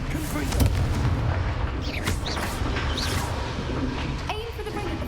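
Game explosion effect from a Confringo blasting spell, deep rumbling booms and blasts layered in a dense, loud battle mix with swishing magical effects.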